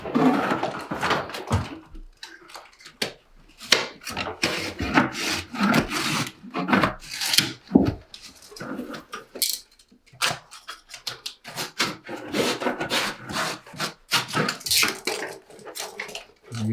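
Scissors trimming a piece of grasscloth wallpaper, with irregular close scraping and rustling snips that come in bursts with brief pauses between them.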